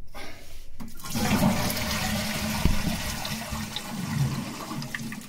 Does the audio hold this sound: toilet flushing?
yes